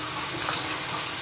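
Tap water pours steadily into a cooking pot for chicken soup, a brief, continuous hissing splash with no talking.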